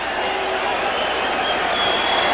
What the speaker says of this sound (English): the crowd yelling